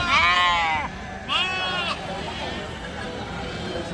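Sheep in a flock at a livestock market give two clear, wavering bleats close up, one after the other, followed by the low murmur of the market crowd and people talking.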